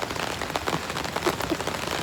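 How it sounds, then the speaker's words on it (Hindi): Rain falls steadily near Chilua Tal lake, close and dense, a constant pattering hiss on surfaces with scattered sharper drops and no voices. "बारिश हो रही है बहुत शानदार"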